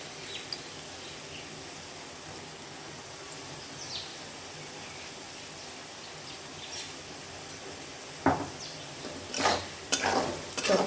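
Potatoes with green chilies and salt frying in a pan for sabudana khichdi, a soft steady sizzle underneath, then a few sharp scraping stirs near the end.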